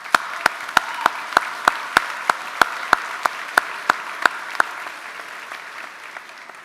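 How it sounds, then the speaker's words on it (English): The crowd at the Galax High School commencement ceremony applauds, with one close clapper striking sharp, evenly spaced claps over a steady wash of audience clapping that fades out after about five seconds. "Give yourself a round of applause."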